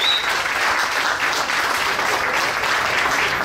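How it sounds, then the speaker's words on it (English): Steady applause from a crowd, a dense and even patter of clapping that carries on at the same level throughout. "How about another round of applause for Adam?"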